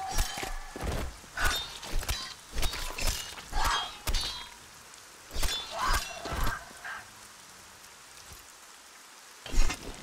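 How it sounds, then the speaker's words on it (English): Rain in the video game Arcania patters and splashes irregularly with scattered louder clattering hits, a busy wet texture with no voices. "It's raining again. This game rains a lot."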